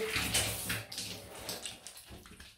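Cold running water rinsing a double-edged safety razor, a steady watery splash close by with brief sloshing bursts as the blade head passes under the flow.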